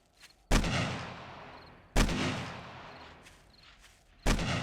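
Gunfire in the survival game 7 Days to Die with the Starvation Mod: three loud, sharp shots spaced a couple of seconds apart, each with a long booming tail, carrying from a distant fort.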